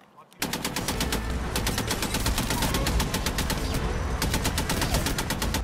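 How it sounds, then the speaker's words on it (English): Sustained machine gun fire in the video game Apex Legends, a rapid, evenly spaced stream of loud close shots running unbroken for several seconds. "Machine gun!"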